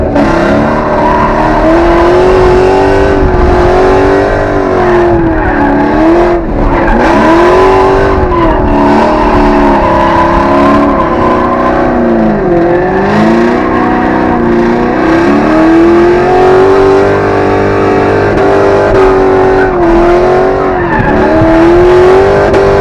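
A drift car at a pumpkin-smashing drift event howls near and loud, its engine rising and falling as it revs, with tires squealing and skidding through long sliding passes, continuous for over twenty seconds.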